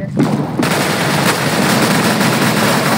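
Continuous rapid gunfire from the video game CS:GO, loud and dense throughout, with a burst of shots at the start and no talking.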